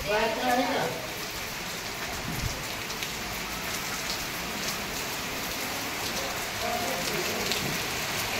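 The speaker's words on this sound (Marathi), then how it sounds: "त्याच्यानंतर खूप जोराचा पाऊस आला" Heavy rain pours steadily in a village setting, a dense continuous hiss of drops striking surfaces close by, with voices talking faintly over the downpour.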